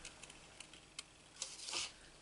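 Paper flowers being cut out by hand with scissors, heard as a few faint, crisp snips spaced apart and then a slightly longer slicing cut, close and quiet with no talk.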